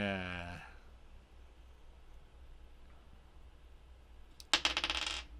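Dice clatter across a hard surface in one quick rattling burst near the end, loud and close, after a stretch of quiet room noise in a tabletop adventure game.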